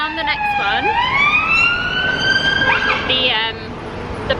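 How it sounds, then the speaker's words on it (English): Emergency vehicle sirens wail through London streets, a rising and sweeping tone from police cars and ambulances, loud and fairly near over traffic rumble, with a second siren pattern warbling in toward the end. "there were loads of police cars and ambulances"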